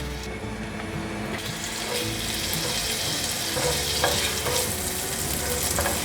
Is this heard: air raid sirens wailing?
no